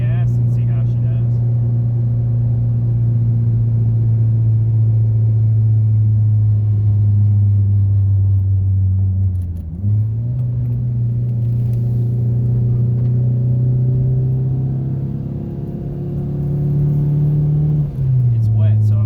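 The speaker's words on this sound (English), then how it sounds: "We'll get around the roundabout up here and give her a little gas and see how she does." A two-door car is test-driven on a wet road. Its loud, steady engine drone climbs in pitch under throttle and dips at about two gear changes.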